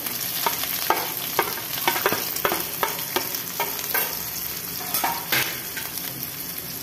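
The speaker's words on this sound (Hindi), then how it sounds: "जीरा डाल दे रहे हैं जीरा भी हो गया है प्याज डाल दे रहे हैं" Onion with cumin and fenugreek seeds fries in a hot pan, a steady sizzle broken by repeated scrapes and clacks of a stirring spoon.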